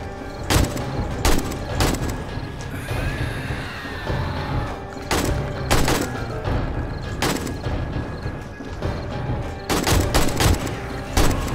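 Gunfire in the 7 Days To Die video game during a horde night: repeated loud bursts of shots in clusters, with dense rattling volleys recurring across the scene.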